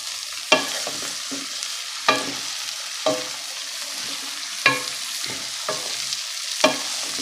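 Mixed vegetable pickle stirred with a wooden or plastic spoon, scraping strokes at irregular intervals over a faint sizzling bed, close and clear with no talk.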